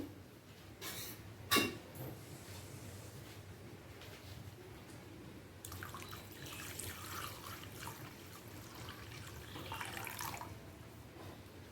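Water is poured into a pot to steam hilsa fish in a tiffin box, giving a soft, close splash and trickle that swells in the second half, with a few clinks of metal.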